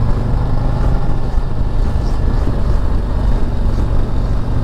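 A 2023 Harley-Davidson Street Glide ST motorcycle pulls hard in third or fourth gear on a fast ride, a loud, deep, rumbling engine roar with steady wind buffeting, close up throughout.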